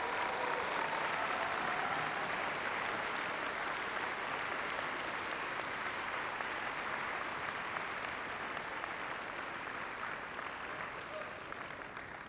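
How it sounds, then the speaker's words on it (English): Teams at a FIRST Tech Challenge Florida championship applaud their coaches and parents, a steady, full round of crowd clapping that holds for about twelve seconds and tapers slightly near the end, with no talk over it. "will all of the teams please give an applause for your coaches and your parents"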